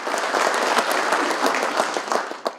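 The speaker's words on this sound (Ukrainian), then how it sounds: "Зал аплодував стоячи." A concert hall audience gives a standing ovation, dense steady applause filling the room without a break, with a few sharper claps standing out near the end.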